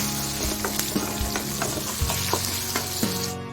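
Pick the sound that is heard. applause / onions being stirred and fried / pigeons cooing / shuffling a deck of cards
onions being stirred and fried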